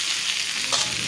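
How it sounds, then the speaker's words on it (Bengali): Food frying in a large kadai, a continuous loud sizzle with brief stirring scrapes, close up and alone. "ভাজাটা করে নিই"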